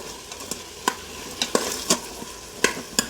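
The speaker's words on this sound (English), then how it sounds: "Just a quick stir." Quick stirring of potato and vegetables for a veg biryani in an Instant Pot: a handful of sharp scraping clinks at irregular intervals over a steady low sizzle, close by, with no talk.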